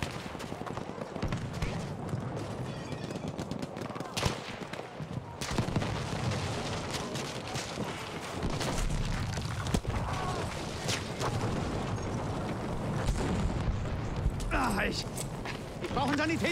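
Battlefield 5 combat in Narvik: scattered gunshots and distant automatic fire crackle amid a busy battle ambience, with sharp close reports at intervals and someone talking over much of it.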